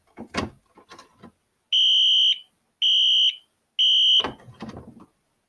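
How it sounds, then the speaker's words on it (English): An Exceder fire alarm horn driven by a 20101 alarm panel blasts three loud, evenly spaced electronic tones, with clicks and handling noises from the panel before and after. "Now if I activate an alarm, you can see that only the exceeder goes off."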